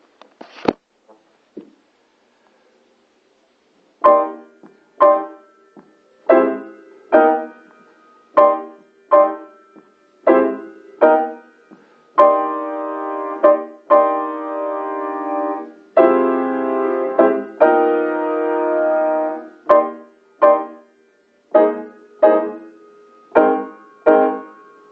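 Keyboard playing two-handed chord voicings for band work, with spaced single chord stabs that give way to longer sustained chords and then more short stabs, close and clear with no voices.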